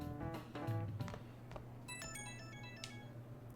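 A video game phone in Persona 5 Royal chimes with a bright melodic ringtone, a few tonal bursts rising in pitch and sounding clearly over quiet background music.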